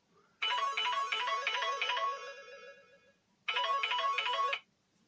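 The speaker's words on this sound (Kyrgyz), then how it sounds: "Телефондан да чалып атышат." A mobile phone ringtone for an incoming call plays loud and close in two bursts. The first lasts about three seconds and fades at its tail, and a shorter second ring follows after a brief gap.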